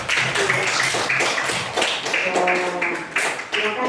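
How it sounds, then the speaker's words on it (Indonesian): Classroom applause from a physics class of students, a burst of brisk, overlapping hand claps filling the room at close range for several seconds, with voices mingling underneath. "Tepuk tangan untuk semuanya."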